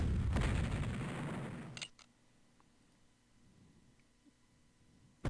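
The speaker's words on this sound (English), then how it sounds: "67th Ohio's in the open, so we'll hit them with some artillery" Artillery fire in a Civil War strategy video game: a loud booming roar that rumbles for under two seconds, then a sharp crack, before fading into a quiet low background with faint scattered clicks and a final abrupt burst.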